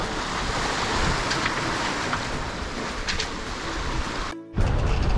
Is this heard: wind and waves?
yes